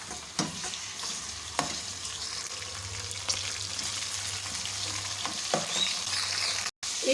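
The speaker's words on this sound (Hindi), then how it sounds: "एक मिनट हो गया कीमा फ्राई होते हुए" Minced meat (keema) fries in a pan with onions and whole red chillies, a steady crackling sizzle broken by occasional scraping stirs, close up with no voices.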